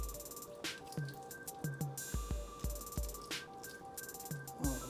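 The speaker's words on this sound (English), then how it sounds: "we're gonna start spooning in our filling" Filling is spooned onto salmon for candied glazed pinwheels, making soft, wet squishes and light taps in an uneven rhythm, quiet and close with no voices.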